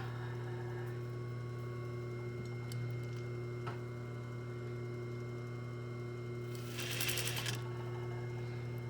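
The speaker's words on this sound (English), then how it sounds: "I'm going to pop it under the presser foot, and I'm going to top stitch it." A home sewing machine top stitches fabric under the presser foot for a placket, a quiet, steady mechanical hum with faint rhythmic ticking and a brief louder rattle near the end, with no speech.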